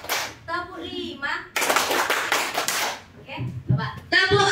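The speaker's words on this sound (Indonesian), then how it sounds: "tepuk 5." A group claps in unison during a classroom counting game, a dense burst of claps following spoken instructions, with voices before and after.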